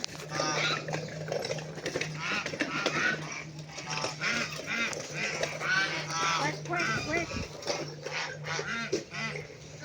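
Chickens cluck and squawk in a busy, overlapping chorus on a farm, close and fairly loud, with people chatting over the birds throughout.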